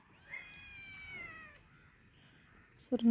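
A cat gives one drawn-out meow at moderate distance and fairly quiet level, followed by a pause and then a sudden sharp knock.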